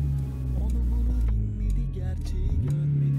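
A car engine revs as the driver presses hard on the pedal, a steady loud mid-pitched drone that rises and shifts near the end, with people talking over it.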